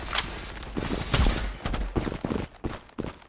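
Gunfire in the online shooter Zula on the Favela map, with rapid overlapping bursts and heavy thumps, loud and busy, cluttered with game noise.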